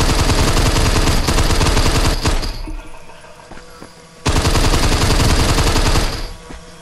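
Rapid automatic gunfire from an off-brand Fortnite-style shooter game, loud bursts of repeated shots with a short pause in the middle before firing resumes.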